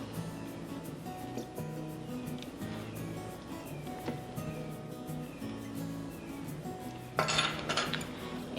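Miso, mirin, sake and sugar being stirred together in a bowl, soft continuous scraping and clinking of a utensil against the dish, with a brighter burst of clatter near the end.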